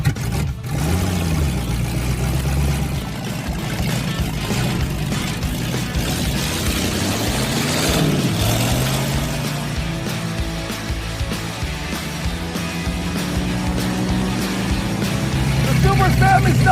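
Suzuki Samurai fitted with a 440 big-block V8, driven on the road while cold, gives a loud, steady engine drone with low harmonic sweeps as revs rise and fall, heard from inside the cabin with voices talking over it.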